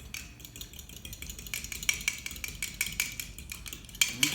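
A utensil whisks three chicken eggs in a cup with quick, repeated clinks and taps against the sides, a close and moderately quiet rattle that speeds up toward the end.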